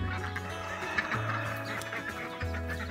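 Ducks on a family homestead call out impatiently at feeding time, a steady run of nasal quacking and clucking fowl noise with low humming underneath, close by and fairly quiet.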